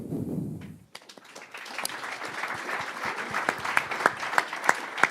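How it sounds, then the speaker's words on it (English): After a voice, an investor pitch event audience breaks into applause, a crisp, moderately loud patter of many hands with a few louder individual claps standing out. "keep the applause going for my friend Miriam Grutt-Norby"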